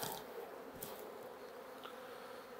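Honey bees shaken off a hive frame during an artificial swarm split, a soft, continuous buzzing hum with a few faint knocks, quiet and close.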